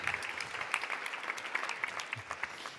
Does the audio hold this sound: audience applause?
yes